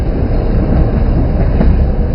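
A passenger train bound for Beijing rolls along with a steady, dense low rumble and constant hum of the carriage heard from inside, loud and unbroken.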